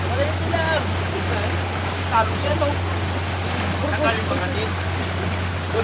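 A boat engine drones steadily on open water near a pier during a boat race, with wind and lapping waves around it while people talk over the top.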